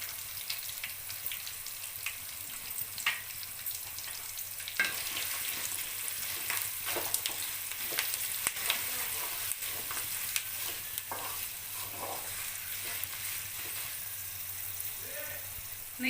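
Curry leaves frying in hot oil for gongura pulihora give a steady broadband sizzle through the whole stretch, with occasional stirring scrapes and crackles rising above it.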